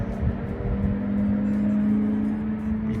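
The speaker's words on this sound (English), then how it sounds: "You can probably hear those cars in the background." Racing cars lapping Donington Park Circuit, heard as a steady, distant engine drone with a sustained tonal hum, no talk.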